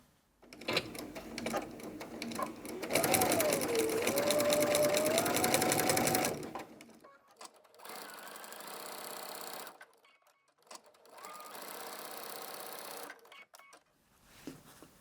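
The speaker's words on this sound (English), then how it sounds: "I'm going to take this to the machine and I'm just going to do a little tacking stitch." Domestic sewing machine running a tacking stitch about 1/8 inch from the edge of quilt hanging tabs, with a long continuous whirring run followed by two shorter stitching bursts, close and steady with no talk.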